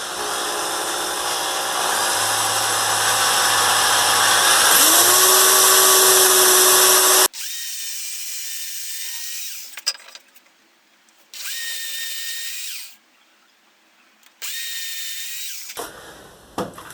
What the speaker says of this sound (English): before I actually drill, I'm gonna make sure I don't go past this here